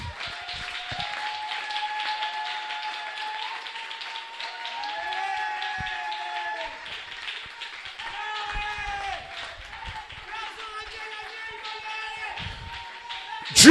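A church congregation claps rhythmically in acclaim of the Lord, the steady patter running beneath sustained singing or voices throughout.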